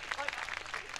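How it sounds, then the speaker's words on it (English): Audience applause for a child named Jack taking a bow at a live city show, a brief burst of dense clapping that fills the short moment. "Listen to the clapping just for you."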